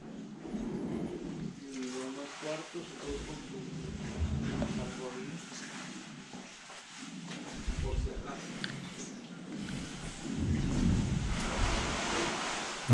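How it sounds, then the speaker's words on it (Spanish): Seawater surges and slaps against the hull of a Russian ship wrecked on a Mexican beach and breaking apart, in irregular crashing washes with gusty wind noise over the microphone, while a person talks throughout. "No se alcancen a oír cómo se escucha que azota el agua aquí adelante. Es donde el barco se está partiendo."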